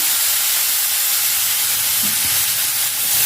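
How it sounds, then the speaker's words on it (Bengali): Amla gooseberries fry in hot oil with turmeric, giving a loud, continuous hissing sizzle that runs unbroken throughout. "এবার এটাকে ভালো করে নেড়ে চেড়ে ভেজে নিচ্ছি তেলের মধ্যে"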